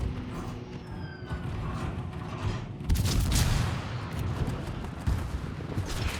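Warship guns fire in a naval video game, a heavy salvo booming and rumbling after a quieter stretch, followed by another muffled blast, with game ambience throughout.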